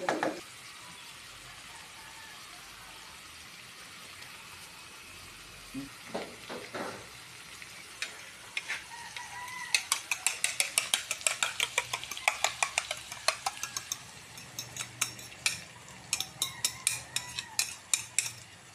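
Food being stirred in a frying pan over heat, a run of quick scraping and clinking strokes of a utensil against the pan that grows busier and louder, with a faint sizzle underneath and no talking.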